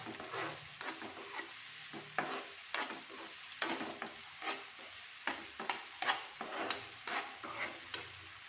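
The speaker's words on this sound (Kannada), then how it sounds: "ಈಗ ಟೊಮೆಟೊ ಹಾಕ್ತೀನಿ." Chopped tomato is stirred into a sizzling frying pan for a hotel-style idli dish from Dharwad, with repeated irregular scraping and stirring strokes over a steady, close sizzle and no talking.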